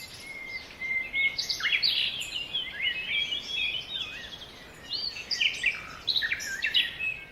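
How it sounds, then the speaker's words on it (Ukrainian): Several songbirds chirp and trill continuously in overlapping phrases, lively and fairly close, over a soft steady background hiss. "Чути спів пташечок голосних"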